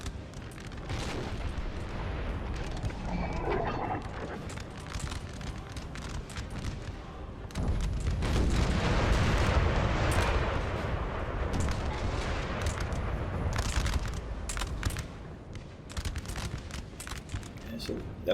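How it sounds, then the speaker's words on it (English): Napoleon: Total War battle with artillery firing from both sides, a dense run of booming cannon shots and crackling volleys that swells louder midway, while someone talks over the din. "So that was artillery there firing from either side."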